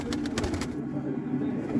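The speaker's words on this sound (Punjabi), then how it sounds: "ਇਹ ਕਿਹੜਾ ਕਬੂਤਰ ਆ" A Teddy pigeon coos softly nearby in a brief, low, steady murmur, with a few faint clicks and rustles at the start.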